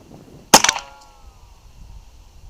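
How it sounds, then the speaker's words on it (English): A gunshot strikes a jack-o'-lantern target outdoors and ricochets: one sharp loud crack followed by a few rapid smaller cracks, with a thin ringing whine trailing off for about half a second, then quiet. "We got a ricochet."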